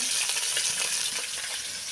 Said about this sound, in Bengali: এবার মাথাটা ভাজা নিচ্ছে